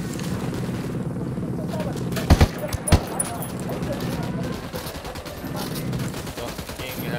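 Gunfire in the Ghost Recon Wildlands video game, with two sharp loud shots standing out around the middle over a steady bed of game noise and rumbling ambience, alongside intermittent speech.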